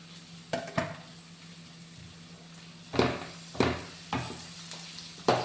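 Onion, green chili and curry leaves stirred in a pan, a spoon scraping and knocking against the metal in a handful of sharp, separate strokes over a faint, steady sizzle.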